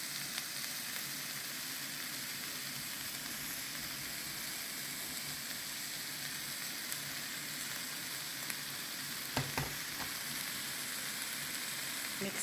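Green onions sautéing with zucchini in a pan give a steady, even sizzle that runs on throughout, with a few faint clicks from a utensil and no talking.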